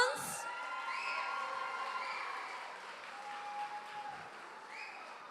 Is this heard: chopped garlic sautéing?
no